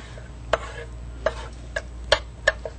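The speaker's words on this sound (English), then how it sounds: "We want to go ahead and cut that cartilage away." Knife cutting through the cartilage of a raw chicken breast on a board, five or six sharp, distinct clicks spaced about half a second apart over a low steady hum, close and fairly quiet.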